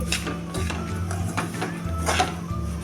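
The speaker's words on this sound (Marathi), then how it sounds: "आता हा रवा मी छान असा भाजून घेते" Semolina roasting in oil in a pan as it is stirred: continuous scraping and shuffling of a utensil through the grains, with a low hum underneath and no speech.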